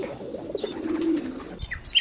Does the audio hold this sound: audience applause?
no